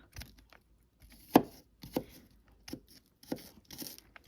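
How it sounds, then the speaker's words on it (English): Several crisp knife chops through garlic on a board, irregularly spaced with pauses between, fairly close and with no talking. "I'm just chopping this up."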